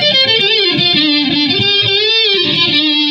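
A sustained, heavily distorted electric guitar tone with a gritty, buzzing edge, its pitch sliding and bending as it rings out loudly without pause.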